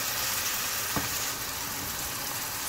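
Chicken tantuni with added water cooking lightly in a pan, a steady close sizzle and bubbling hiss throughout with one brief stir-like tap.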